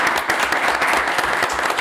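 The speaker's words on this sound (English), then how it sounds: "a quick round of applause for those in the panel" An audience applauds a panel in a steady burst of clapping that fills the whole moment at a consistent, fairly loud level.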